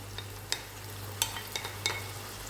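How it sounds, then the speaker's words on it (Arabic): Champignon mushrooms fry in a pan with a steady, soft sizzle, broken by a few sharp clacks as they are stirred. "ونخليه هو ثاني يتقلى قيس 5 دقائق"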